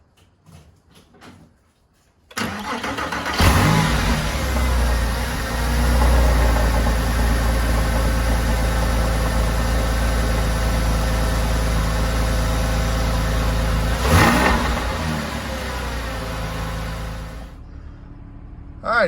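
A 2005 Porsche 997.1 with semi-solid motor mounts cranks briefly, catches with a loud flare, then settles into a steady close idle, with another brief rev burst near the end before it quiets.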